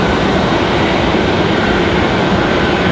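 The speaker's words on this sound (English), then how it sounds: "As the American A320 gets out of here." American Airlines Airbus A320 jet taking off at Raleigh-Durham International Airport, a loud, steady broadband engine roar that holds without a break, with no voices.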